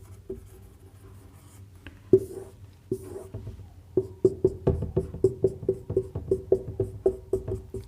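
A pen writes on paper of an exam answer copy, close and distinct, with sparse strokes at first and then a quick run of rhythmic scratching taps, no speech.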